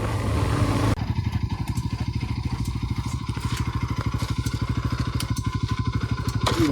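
Motorcycle engine idling close by with a rapid, even chugging pulse that kicks in after a rough start, steady and loud throughout.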